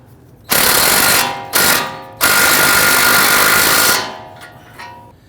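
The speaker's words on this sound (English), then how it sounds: "Using a 21mm socket, let's go ahead and snug down our tie rod end nut." An impact gun drives a 21mm socket onto a tie rod end nut on a 2011-2023 Dodge Charger, giving a loud, harsh rattling burst, a short second burst, then a longer sustained run before it trails off.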